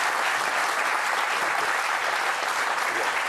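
A theatre or studio audience claps steadily in sustained applause, a dense even wash of many hands, loud and close, with no voices standing out.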